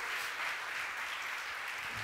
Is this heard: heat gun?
no